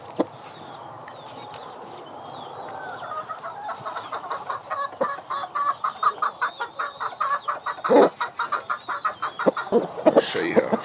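A heavy-bodied black gamefowl rooster of warhorse mix clucks in a quick, rhythmic run of calls, starting sparse and growing louder and denser toward the end, fairly close with no talk.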